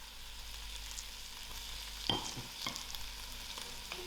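Masala fries with vegetables and ginger in a pan over low heat, a soft steady sizzle broken by a few light stirring scrapes.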